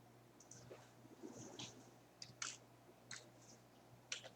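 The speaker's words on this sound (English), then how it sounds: "all I gotta do is type in Logitech" Sparse, quiet key clicks from a computer keyboard in a small room, a handful of light taps spread irregularly over a few seconds above a steady low electrical hum.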